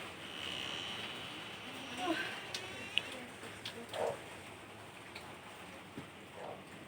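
Steady rain hisses outside a flooded house, a soft even patter with scattered louder drips and splashes, faint and continuous.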